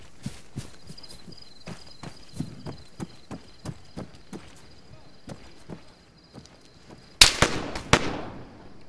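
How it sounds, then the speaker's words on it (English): Distant gunfire in Arma 3 around a compound, a long run of sharp, spaced cracks and pops, then a louder, closer burst of shots near the end, with faint talk over the top. "Is that you taking shots?"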